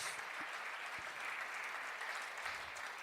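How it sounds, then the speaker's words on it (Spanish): A church congregation applauds during a Spanish-language evangelical sermon, giving steady, dense clapping that fills the whole stretch at moderate volume, with a few low thumps underneath. "Fuertes aplausos al Señor, mi hermano"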